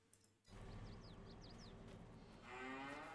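Cattle in Farming Simulator 22 moo, with one long low moo followed by another starting near the end, while bird chirps sound in the background of a quiet pasture.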